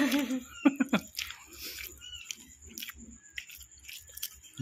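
Fried kangkong chips are chewed with crisp, crunchy bites up close, a run of quick crackling bursts followed by quieter irregular munching.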